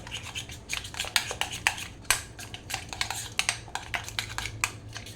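Kashmiri red chili is mixed into a paneer marinade in a bowl, a rapid, uneven run of close clinks and scrapes from the utensil against the dish.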